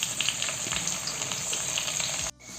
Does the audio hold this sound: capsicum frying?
yes